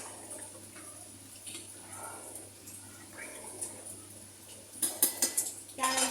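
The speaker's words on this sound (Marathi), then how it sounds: "पाणी टाकल्यावर आपल्याला हे चांगलं हलवून घ्यायचं आहे एकदा" Dal khichdi in a pot gets stirred with a metal spoon after water is added, giving soft scraping and clinking against the vessel that builds into a few louder knocks near the end, with no talk.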